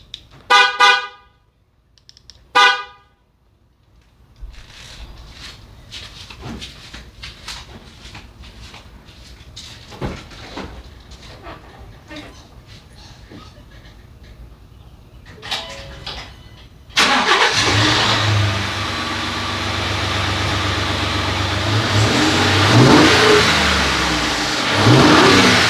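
Ford 3.5 EcoBoost engine with its factory air intake: a couple of short chirps, quiet clicks and rustles, then the engine cranks and catches into a loud, close, steady idle and revs.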